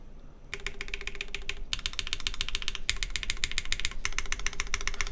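Rapid typing on a KBDfans Tofu60 3.0 keyboard fitted with NK Classic Blue switches and GEON Raw Zero keycaps, in bursts of dense clacky keystrokes separated by brief pauses, heard close over a low steady background hum.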